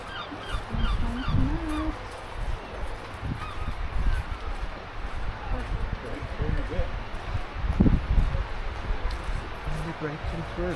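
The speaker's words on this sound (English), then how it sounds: "we've always got a chorus from Seagulls anyway." Seagulls call and squawk at a British seaside town, several harsh cries scattered over wind and ambient noise, mid-distance, with people talking at times.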